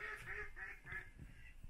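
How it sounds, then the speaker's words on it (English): Ducks beside a narrowboat give a quick series of several quacks, faint and somewhat distant over quiet background noise, with no talking. "The resident ducks are very naughty, partly because we bought duck food and they absolutely love it."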